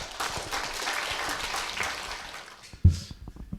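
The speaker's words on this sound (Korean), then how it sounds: "큰 환영의 박수 부탁드립니다." Welcoming applause from a lecture audience at a humanities philosophy forum as a professor is invited to the podium, a sustained crowd clapping that fades out near the end, followed by a few close, isolated thumps.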